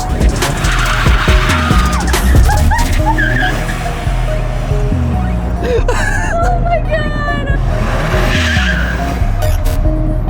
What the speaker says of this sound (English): I feel like it'll do a burnout.